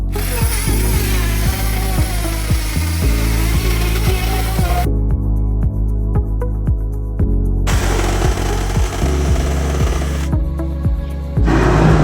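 Power drill boring a hole in a ceiling to let a stove chimney pass, a steady loud whir with repeated speed changes and brief pauses, no talk.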